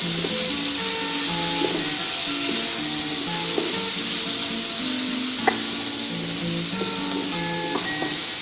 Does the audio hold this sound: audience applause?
no